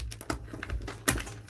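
Tarot cards are shuffled close up in a quick run of soft riffling taps and flicks, ending in one sharper snap.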